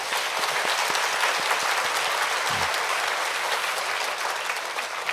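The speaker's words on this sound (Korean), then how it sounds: "우리 하나님께 감사와 우리 홍 목사님께도 감사의 박수 한번 드리겠습니다" A church congregation at an anniversary revival meeting at Yeouido Baptist Church gives sustained applause, a continuous roomful of clapping with some sharper nearby claps, while a brief low voice rises through it.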